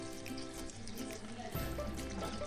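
Water poured into a pan of cooking chicken, a soft running splash with light sizzling underneath, faint and close, with a clatter partway through.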